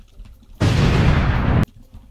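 A sudden explosion in Goat Simulator: a loud, abrupt burst of roaring noise that holds for about a second before cutting off sharply, surrounded by quiet background.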